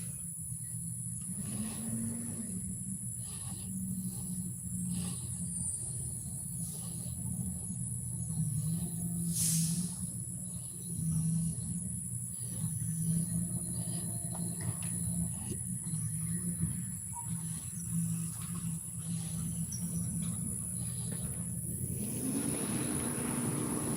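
A garbage truck idles nearby outdoors, a steady low engine rumble with a droning hum running throughout, fairly close and continuous, with crickets and faint ambient noise over it.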